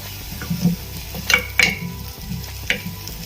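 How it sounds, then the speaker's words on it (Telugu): Onions frying in a pan to a deep red, giving a low continuous sizzle broken by a few sharp stirring scrapes. No speech over it. "ఇంకా కొంచెం రెడ్గా వేగాలండి. మంచిగా ఎర్రగా వేగాలి."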